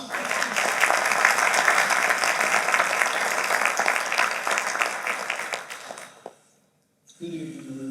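Applause for singer-songwriters at a Dr. Martin Luther King commemoration, a full room clapping steadily and fairly loud before dying away into a brief silence, then a voice begins speaking.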